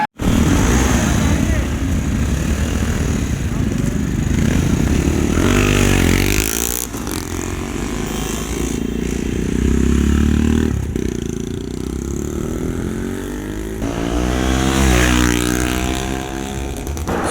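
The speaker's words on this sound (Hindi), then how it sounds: "ये बाइक्स निकलनी शुरू हो गई हैं" Jawa Perak, 42 and Classic motorcycles pulling out of a crowded parking lot on an Independence Day group ride, with engines revving and rumbling close by in uneven surges while people talk over them.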